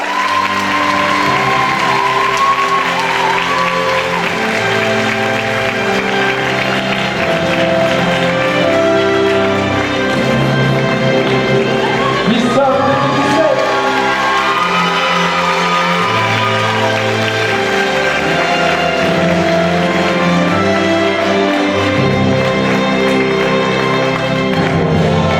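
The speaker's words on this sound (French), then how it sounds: "Merci de réserver de nombreux applaudissements à Marie-Solène Lebrun, Miss Somme 2017." A crowd at a Miss Somme pageant claps and cheers for the outgoing titleholder, a continuous wash of applause with occasional shouts and whoops, heard beneath loud music with sustained tones throughout.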